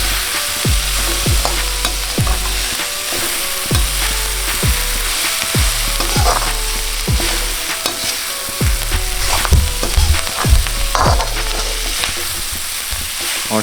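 Onions sizzle and fry in a pan for an Indian recipe, a steady loud crackle with repeated regular clanks of a spoon stirring against the pan throughout.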